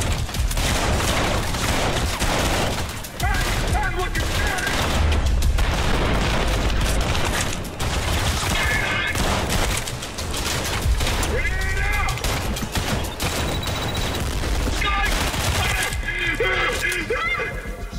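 Rapid gunfire from a pistol in the first-person shooter Tripang 2, with shots and impacts packed densely over a continuous loud game soundscape for the whole stretch, mixed with a voice talking.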